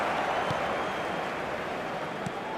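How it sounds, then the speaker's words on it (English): Stadium crowd noise in the eFootball 2025 football video game, a steady broad roar of massed supporters on matchday that holds level for a couple of seconds with no distinct cheers standing out. "And the matchday noise at this place is truly special."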